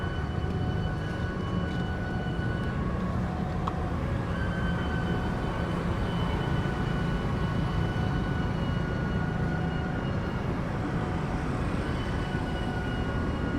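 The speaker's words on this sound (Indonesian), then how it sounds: "Dan ini dia lokomotifnya, pakai lokomotif CC206 1303 di Poindu Cirebon." A passenger train hauled by CC206 1303 locomotive rolls past at Poindu, Cirebon, giving a loud, steady rumble with faint tonal whines that holds throughout, with no voices.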